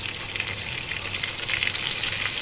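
Ginger sizzles and crackles in hot oil in a pan, a steady, bright frying hiss with no talking.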